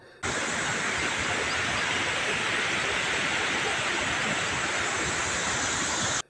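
Water pours through the open gates of the overflowing Sina Kolegaon dam in a loud, unbroken roar that holds steady throughout.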